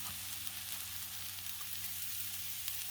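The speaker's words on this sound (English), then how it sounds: "And I'm gonna put the filet right there." Pork loin filet on a Blackstone griddle gives a faint, even sizzle, a soft continuous hiss heard alone without speech.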